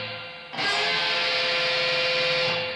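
Electric guitar with distorted, effects-laden tone sustains a chord as one string is bent while two others ring, a dense loud wash holding steady for over two seconds after a quiet lead-in, from a solo lesson.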